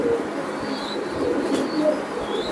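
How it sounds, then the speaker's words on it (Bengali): Pakistani teddy pigeons at a pigeon farm give soft, faint cooing over a steady background hum, with no talking. "এটা ভাই টেডি কবুতর ভাই।"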